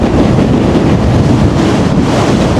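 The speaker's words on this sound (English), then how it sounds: "It's pretty windy." Loud, continuous wind buffets the microphone while riding an electric scooter uphill, a dense rumbling roar with no voices.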